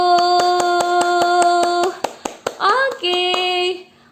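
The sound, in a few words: children clapping hands at Sunday school Easter service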